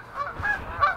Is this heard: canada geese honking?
yes